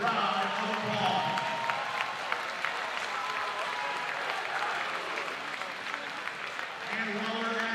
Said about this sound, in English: So let's give these gentlemen a huge round of applause.